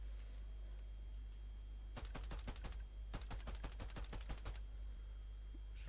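Rapid bursts of gunfire in a video game, two volleys of quick repeated shots separated by a short pause, over a steady low background hum.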